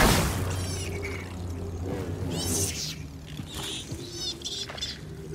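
Small Bogling creatures in Star Wars Jedi Survivor give off high, chirpy squeaks in quick repeated bursts over a low game-ambience rumble, with no talking.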